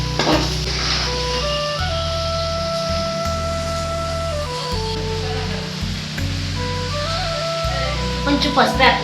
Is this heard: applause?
no